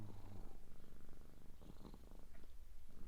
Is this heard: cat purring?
yes